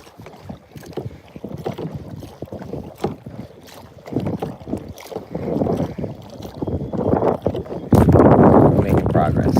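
A kayak paddled across open water, with rhythmic splashing strokes and wind buffeting the microphone, growing louder and rougher toward the end.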